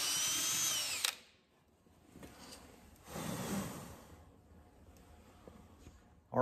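Power drill boring a hole in a wooden board, two short bursts of whirring drilling separated by quiet pauses, fairly faint and close.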